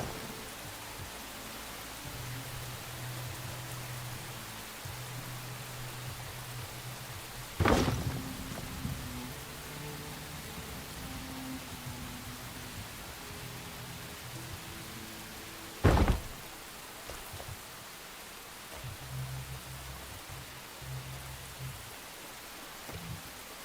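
Steady rain falls in the Enshrouded game world as a soft, even hiss with low patter, broken twice by sharp, loud thuds and occasional faint tonal game sounds.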